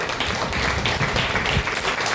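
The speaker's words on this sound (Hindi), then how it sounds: "जोरदार तालियां बजाओ" A crowd claps hard and steadily at a Hindu devotional discourse, a dense, unbroken wash of applause lasting throughout.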